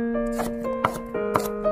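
A knife minces garlic cloves on a chopping board in a few sharp, evenly spaced taps that stand out over steady background music.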